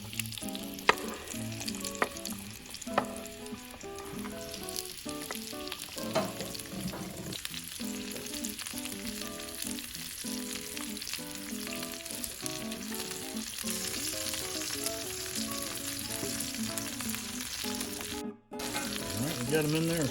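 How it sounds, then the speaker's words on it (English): Potatoes and onions fry in hot oil in a pan over a wood campfire, giving a steady, close crackling sizzle with scraping stirs throughout and a brief dropout near the end. "we're going to let that oil get just a little bit hotter"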